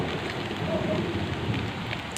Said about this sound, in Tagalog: eh kumukulog po